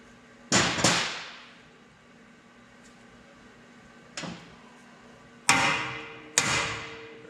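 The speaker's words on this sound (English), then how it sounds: "now I can hammer it back up out, and the top cup will come out" Sharp metallic hammer strikes ring out in short bursts: two quick blows, a pause, a lighter hit, then two more solid strikes, driving a bearing cup out of a Hodaka Combat Wombat motorcycle.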